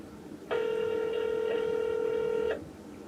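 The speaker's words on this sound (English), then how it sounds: "Oh, come on, Todd. Pick up" An outgoing telephone call rings out with one steady electronic ring tone lasting about two seconds, clear and alone against faint background hiss.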